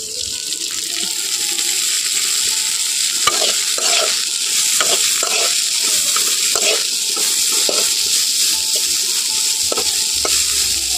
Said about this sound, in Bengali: তেল দিয়ে এবারে হালকা আঁচে কিন্তু ভেজে নেব